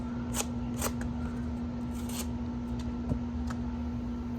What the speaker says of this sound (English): Watch it when I get it through this cardboard. It's really gonna eat.